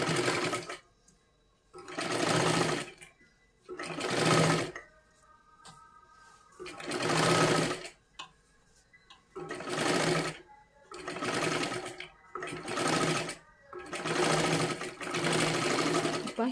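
A sewing machine stitches lace onto the neckline of a size 37 three-piece princess-cut blouse. It runs close and loud in about eight stop-start bursts of steady whirring, separated by short quiet pauses, with no talking.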